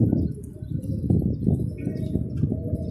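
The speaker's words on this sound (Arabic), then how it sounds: "هاي الحمام كلها للبيع قدام عيونكم" Pigeons at a pigeon market coo in a dense, low, continuous murmur of overlapping calls, close and steady throughout.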